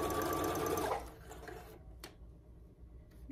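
A sewing machine stitches a wool coat seam, a loud steady whirring run for about a second, then stopping, followed by faint handling sounds and a quiet pause.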